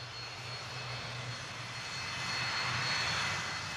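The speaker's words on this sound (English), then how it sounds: "Within an hour, it was taxiing out again for takeoff." Jet airliner engines roar steadily as the plane taxis out for takeoff after a refuelling stop in Brussels, a continuous loud drone with a low hum that swells slightly toward the end, no voices.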